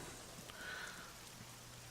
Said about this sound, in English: sample some of that lovely Altus rain